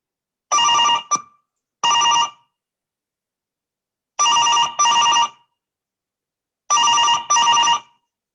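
A telephone rings in three clear bursts of double rings, loud and close, with silent gaps between each pair.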